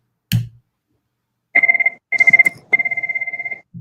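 An office telephone rings in three separate bursts of rapid electronic trilling, each louder and longer than the last, with silence between them and a brief thump at the start.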